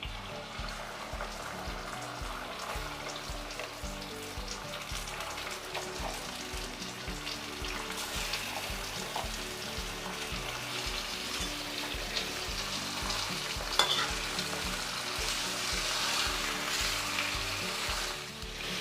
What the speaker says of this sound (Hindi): चिकन को तेज़ आंच पर बहुत अच्छे से हम इसको फ्राई कर लेंगे।